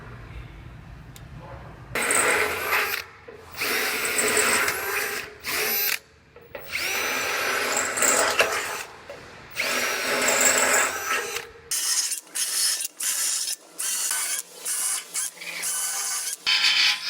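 A power tool works a metal rail, cleaning weld spots down to bare metal in loud, repeated bursts of grinding that stop and start in short pauses, with no talking.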